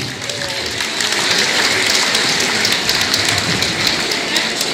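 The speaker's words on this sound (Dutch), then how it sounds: "Een geweldig applaus voor Maud du Chardonnier" A crowd at a carnival society event gives sustained applause for Maud du Chardonnier, a dense, steady wash of many hands clapping that swells slightly and holds throughout.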